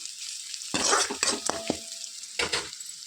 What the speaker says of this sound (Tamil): ஒரு ரெண்டு நிமிஷம் இதை நல்லா வதக்கி விட்டுறோம்